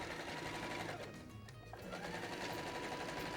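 A sewing machine stitches pinned fabric for a watermelon-style pencil case, a steady fast mechanical whirr close by that eases briefly mid-way, with no talk over it.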